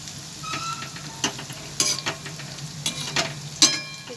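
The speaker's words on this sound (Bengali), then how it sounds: "কম আঁচেতে ভাজতে হয়, নাহলে ভেতরটা কাঁচা থেকে যাবে।" Soya chicken pakoras fry in oil over low heat, a soft constant sizzle punctuated by several sharp bursts and clinks as they are turned, close by with no talking.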